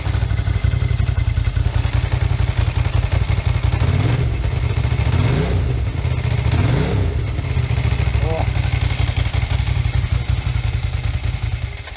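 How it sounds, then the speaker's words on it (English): A motorcycle with a dry clutch idles close by with a steady, rapid mechanical rattle from the clutch, while a voice talks over it. "You hear that dry clutch?"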